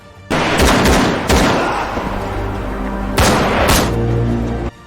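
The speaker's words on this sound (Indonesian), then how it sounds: "mereka beberapa kali berhenti dan melepaskan tembakan" Loud bursts of gunfire in the film Escape from Tarkov: Raid break out in several volleys, sharp cracks and booms, with sustained low tones humming between the bursts.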